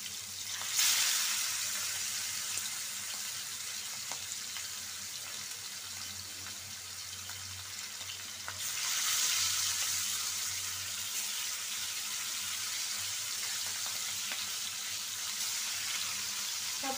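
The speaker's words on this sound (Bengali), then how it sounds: "সব মাছগুলো দিয়ে দিচ্ছি, ভাজা হোক।" Katla fish pieces frying in hot oil, a continuous crackling sizzle with two louder bursts as more fish goes into the pan, heard close with no talking.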